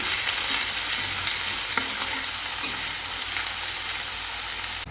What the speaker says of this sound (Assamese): চিকেনখিনি সিজিবলৈ দিছোঁ